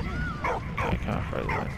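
A dog in the World War I game Valiant Hearts gives a quick run of short, yippy barks and whimpers, close and fairly loud over a steady game-music backdrop.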